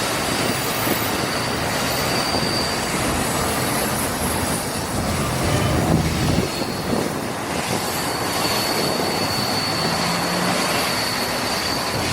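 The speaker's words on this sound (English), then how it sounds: "Also, there goes the train." A loud, steady rumble and roar fills the scene throughout, swelling slightly midway, as a train rolls past close by in New York City, with no voices.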